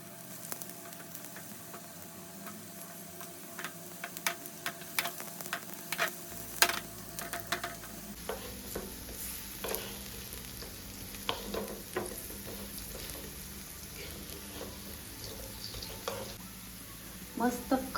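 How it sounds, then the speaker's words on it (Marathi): Alu vadi shallow-fries in a little oil on a tava, a low, steady sizzle with scattered spatters and occasional clicks of a utensil, close and fairly quiet throughout. "याच्यातच आपले वडी शॅलो फ्राय करायला ठेवूया."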